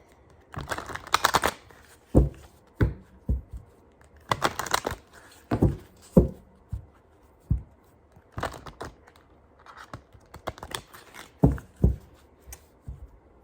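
Bursts of riffling cards, several quick shuffles separated by pauses and soft taps, close and without any speech.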